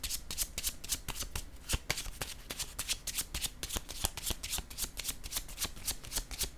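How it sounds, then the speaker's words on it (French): Tarot cards shuffled by hand, a fast, regular run of crisp riffling flicks repeating steadily at close range, fairly quiet and with no talking. "Je vais piger une autre carte ici."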